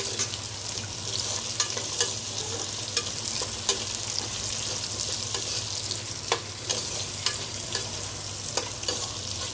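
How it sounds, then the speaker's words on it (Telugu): Cut carrots and beans fry in mustard oil in a pan, a steady close hiss of sizzling broken by sharp scraping stirs, with no talk. "కొంచెం ఫ్రై చేసుకుందాం."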